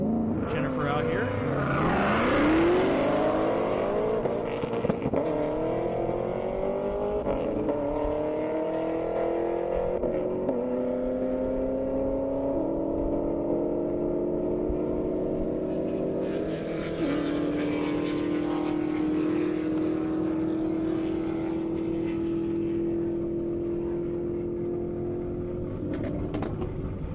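A Ford Mustang GT350 and a 5th-gen Chevrolet Camaro drag race on an airstrip, with loud engines revving up through rising gear-shift sweeps, then a sustained high drone fading into the distance, while a commentator talks over it.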